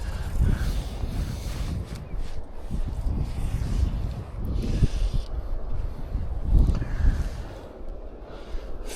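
Wind buffets the microphone beside the wide River Tay in Scotland, a low rumbling roar that swells and eases in uneven gusts, close and fairly soft with no talk.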